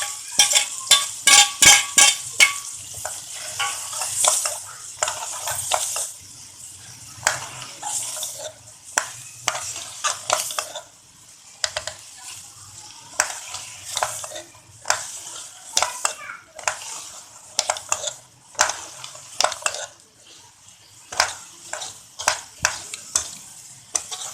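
Black chickpeas being stirred and fried in a pan, with rapid bursts of scraping and sizzling in an uneven rhythm, close and fairly loud, broken by short pauses.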